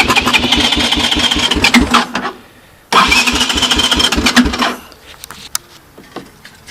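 A 1984 Honda TRX200 ATV engine cold-starting, cranking and catching twice, each time running briefly with a loud, rough, close idle before cutting out, followed by scattered small clicks and knocks.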